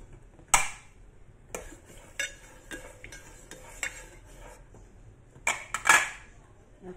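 A spoon stirs flour into an okra dish in a pan, giving scattered clinks and scrapes against the cookware, with a few sharper knocks and quiet gaps between them.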